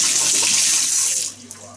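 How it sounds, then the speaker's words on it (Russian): Strong rushing hiss of water pouring from a tap, steady and loud, then easing off in the final half second. "Вот это напор воды."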